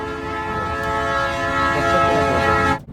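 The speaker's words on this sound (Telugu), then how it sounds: "బుల్లెట్ ట్రైన్ వెళ్ళిపోతుంది." A high-speed bullet train on the Beijing to Shanghai line rushes past, a loud, steady roar with strong tonal hum and a whistle-like ring that swells and then cuts off sharply.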